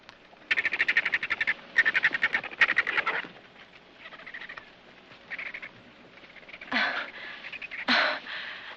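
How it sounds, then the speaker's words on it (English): A whiskey jack, or gray jay, calls in rapid bursts of harsh, chattering notes, several clustered phrases followed by a couple of louder, sharper cries, fairly close and alone without talk. "Oh, that's a whiskey jack."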